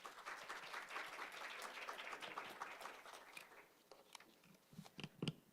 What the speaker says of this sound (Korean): 여러분 교수님을 박수로 맞이해 주십시오